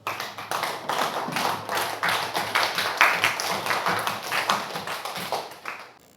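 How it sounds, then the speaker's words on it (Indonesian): Classroom applause from a group of students clapping their hands together, a lively, dense patter of many claps that swells and holds steady for several seconds before tapering off. "Tepuk tangan."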